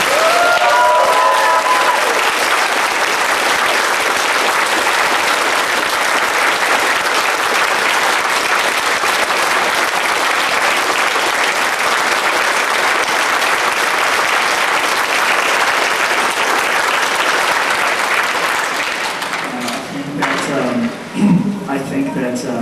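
An audience at a Transformers fan convention panel applauding for the convention staff, sustained loud clapping from a large crowd that tapers off near the end as a voice begins speaking.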